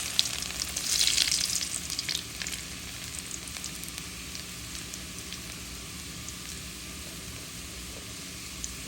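Five-spice seeds and chopped garlic frying in hot oil, a steady close sizzle that flares loudest early on and then settles into a softer, even crackle, with no voices.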